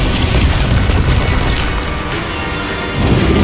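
Expulso blasting spell going off in Hogwarts Legacy, a loud booming explosion with crashing debris and a rumbling tail that fills the whole moment, no voices over it.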